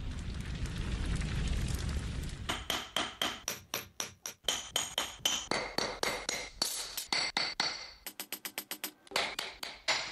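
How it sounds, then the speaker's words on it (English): A hammer strikes a strip of gold alloyed with silver in rapid, ringing metallic blows, close and loud, coming in quick bursts with short pauses after a rough, noisy opening. "After another round of hammering, Cai Qian finally made a gold strip"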